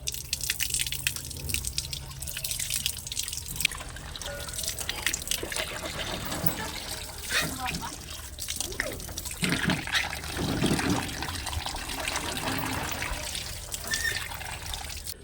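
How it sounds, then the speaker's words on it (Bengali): Water runs steadily from a bathroom tap during face washing, a continuous close splashing trickle that carries on unbroken for the whole stretch. "জলটা বাথরুমে ভরে দিই তো বন্ধুরা মুখটা ধুয়ে নিই কলটা খুলে নিই জলটা"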